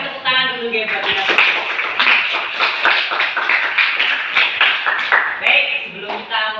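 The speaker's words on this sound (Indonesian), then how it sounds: "kasih tepuk tangan dulu guys buat kita" A small group in a classroom session claps hands in quick, uneven bursts, close and fairly loud, with voices speaking at the start and end.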